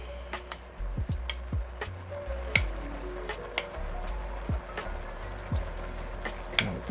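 Shrimp with peppers and onions frying in a pan alongside cabbage and ground beef, a steady close sizzle broken by occasional clinks and stirring scrapes, with no talking.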